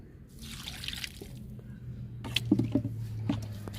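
Kitchen-waste liquid fertilizer is poured from a container onto a drumstick (moringa) plant in a home garden. A soft, faint splashing trickle is followed by a few louder drips and spatters into the soil.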